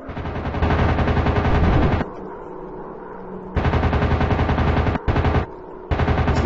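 Rear machine guns of a bomber firing in the WW2 dogfight video game Warplanes, loud sustained bursts of rapid automatic fire broken by short pauses, with quieter engine drone in between.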